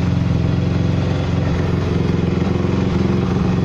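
A 2005 Honda CRF 250 R motorcycle idles close by, its single-cylinder engine putting out a steady, rapid, even putter that holds without change the whole time.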